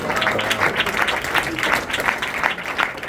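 A church congregation claps together in a steady, continuous round of applause, loud and close, with some voices faintly mixed in.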